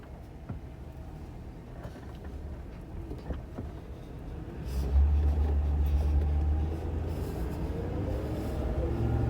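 A 2011 Ford Crown Victoria's engine cold-starts partway through, its low rumble rising abruptly and then settling into a steady, slightly lumpy idle over faint background noise.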